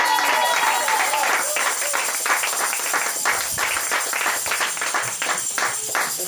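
Church congregation applauding in worship, sustained rhythmic clapping from a crowd, loud and steady throughout, with voices and cheering mixed in.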